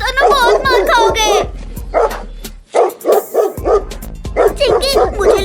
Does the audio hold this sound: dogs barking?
yes